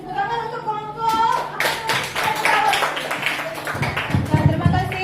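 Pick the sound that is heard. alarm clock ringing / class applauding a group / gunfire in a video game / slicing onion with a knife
class applauding a group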